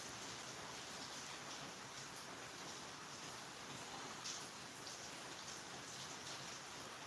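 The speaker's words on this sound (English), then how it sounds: "Rain coming down" Steady rain comes down outdoors in California, a continuous even hiss of drops on surfaces with no let-up and no voices.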